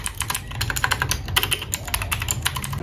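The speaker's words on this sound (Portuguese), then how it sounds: "tem uma coisa que sempre me incomodou, o barulho dos switches Blue" Close, fast clacky typing on a Redragon Kumara mechanical keyboard fitted with Blue switches, with dense overlapping keystrokes and sharp clicks running steadily throughout.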